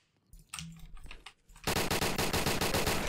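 A short scuffle of movement gives way to a quick string of sharp pistol shots in the video game Apocalypse Rising, loud and evenly spaced, with no talking.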